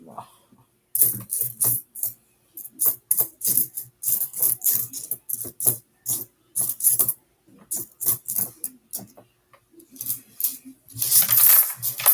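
Nickel coins spill out of a coin roll in repeated bursts, giving bright metallic clinks and jangles up close, with brief pauses between pours.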